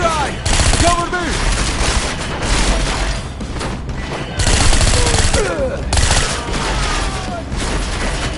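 Rapid gunfire in the video game Deus Ex: Mankind Divided, loud bursts of automatic shots repeating across the scene with shouted voices in between.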